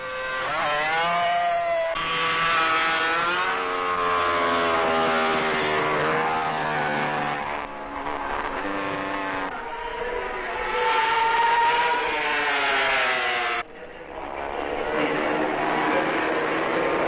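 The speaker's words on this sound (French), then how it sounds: "la lutte était sévère pour la Honda au bruit caractéristique contre la 4 cylindres Benelli de Grosini et surtout la 3 cylindres d'Agost" Mike Hailwood's Honda 350 racing motorcycle howls at high revs, its engine note rising and falling through gear changes as it passes, loud and continuous with no talk over it.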